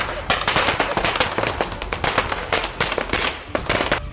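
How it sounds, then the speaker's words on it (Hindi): Firecrackers set off in celebration, a rapid crackling string of sharp pops and bangs bursting one after another in close, dense volleys for several seconds. "नवाकुर उनके साथ पटाखे चला रहे हैं।"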